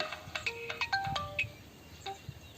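A mobile phone rings with a melodic ringtone of short, rising and falling electronic notes in quick bursts, fairly faint against low background noise, with no speech over it.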